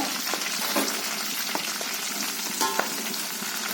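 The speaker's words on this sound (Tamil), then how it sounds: "சிம்மில் வச்சு போடுங்க எண்ணெய் தெரிக்கும்" Ingredients sizzle and crackle steadily in hot oil on low heat while a homemade hair-growth oil is prepared, with a dense, continuous frying hiss and small pops throughout, close by and with no talking.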